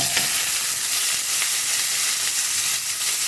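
Tomato, onion, ginger, garlic and curry leaves sauté in hot oil, giving a loud, continuous close sizzle with faint stirring beneath.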